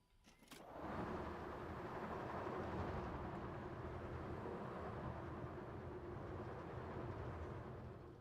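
Roller coaster trains in Planet Coaster 2 rumble past in a loud, steady, continuous roar, rising quickly after a brief clatter at the start and holding a dense low rolling sound.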